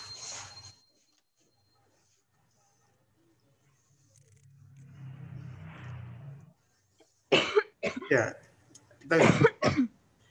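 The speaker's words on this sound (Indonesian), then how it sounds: "wah itu batuk itu." A person coughs several times in quick, harsh bursts near the end, close and loud, after a few spoken words and a stretch of low background noise.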